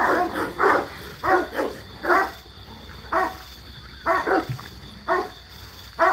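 A dog that has just escaped barks repeatedly at close range at home, with short, sharp woofs in an uneven rhythm and a few softer yips between them.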